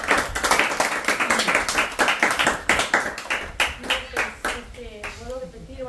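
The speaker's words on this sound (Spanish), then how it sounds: "¡Un aplauso, muchachos!" A group applauds in a casual live-stream setting: brisk, fairly close clapping with distinct individual claps thins out over several seconds, and a voice starts speaking as it ends.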